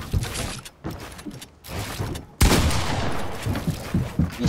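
Video game gunfire crackles in rapid bursts. A dense, loud barrage starts midway through and keeps going to the end.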